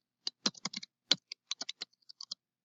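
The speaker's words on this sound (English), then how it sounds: "So I'm going to go ahead and type mine." A computer keyboard clicks as a password is typed, about a dozen crisp, close keystrokes in an uneven rhythm with short pauses in a quiet room.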